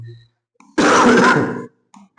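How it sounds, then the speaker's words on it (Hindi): A single harsh cough, loud and close, bursting out for under a second between brief bits of voice before and after it. "खांसी आ रही है, खांसी आ रही है"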